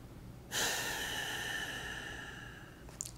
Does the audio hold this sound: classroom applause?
no